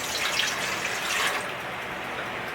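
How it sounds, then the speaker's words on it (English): Tap water runs and pours into a cooking pan for about two and a half cups, a steady close splashing rush that softens slightly near the end. "We're going to add 2½ cups of water"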